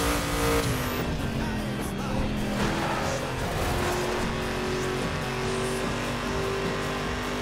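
A car drives along a road in the video game The Crew, its engine holding a steady, loud drone with shifting pitch throughout, along with hints of tire noise and no talk.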